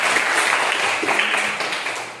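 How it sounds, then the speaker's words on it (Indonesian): A classroom of students claps together, a dense, close burst of hand clapping that holds steady and then gradually tapers off near the end. "Tepuk tangan dulu yang sudah berpendapat."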